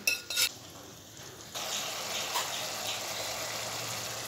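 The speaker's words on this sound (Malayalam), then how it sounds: "നമ്മൾ വേവിച്ച് വെച്ചിരിക്കുന്ന ബീഫ് ഇട്ട് കൊടുക്കുകയാണ്." Cooked beef goes into a pot of beef stew and is stirred, with a couple of sharp clinks of metal on the pot at first, then a steady soft sizzle and bubbling simmer underneath.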